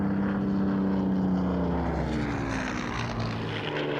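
A Battle of Britain veteran Supermarine Spitfire flies past at an airshow, its piston engine and propeller giving a loud droning roar whose tones slide downward as the aircraft passes close by.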